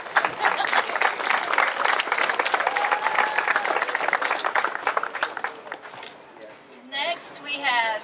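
A crowd applauds at a high school commencement, dense clapping that goes on steadily for about six seconds before thinning out, with a voice speaking toward the end.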